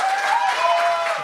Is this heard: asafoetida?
no